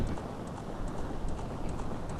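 Rapid galloping hoofbeats of a horse in The Legend of Zelda: Ocarina of Time drum in a steady rhythm over a dense, rumbling background, loud and close throughout.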